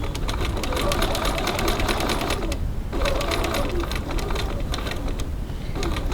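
A sewing machine stitching a small slip-and-zip wallet, a fast continuous mechanical whirr with rapid needle clatter, loud and close, briefly easing once before starting up again.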